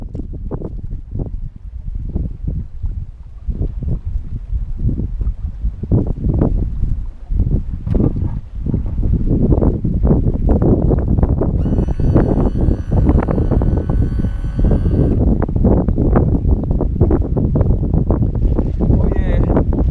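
Wind roars steadily around a boat while fishing for smallmouth bass near Conowingo Dam in early spring before dusk, a constant loud buffeting with gusts. Voices talk over it throughout.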